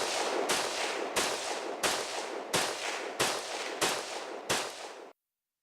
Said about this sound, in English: this is how a machine gun is supposed to fire. And this is how a completely lawful semi-auto rifle fires